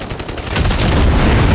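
Gunfire in Call of Duty Warzone, a rapid burst of shots that builds into a dense, loud barrage over a short stretch.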